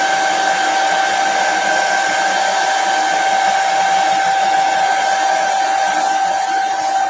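A hair dryer runs steadily at close range, drying chalk paste on a stencil, with a constant whining hum that never changes pitch or level and no other sound.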